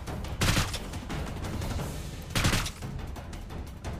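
Bursts of rapid gunfire at a distance in the video game Seeking Dawn, two louder volleys among scattered shots, with a muffled rumbling background.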